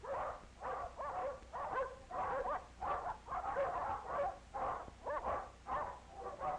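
Dogs barking at a dog pound, a steady run of repeated barks and yips in quick succession, muffled and somewhat distant, with no talk over them.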